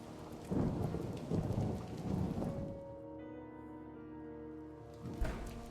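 Rain and rolling thunder from a storm in the horror video game Amnesia Rebirth, heavy and close at first, then easing into a quieter steady patter with a low rumble before a fresh loud burst near the end.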